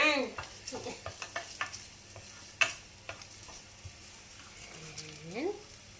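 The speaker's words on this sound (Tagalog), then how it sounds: "Ang chef natin ay mag-i-start na pong maggisa" Aromatics sauté in a pan for shrimp sinigang with a soft sizzle and a run of light ticking utensil taps, and a voice speaks briefly near the end.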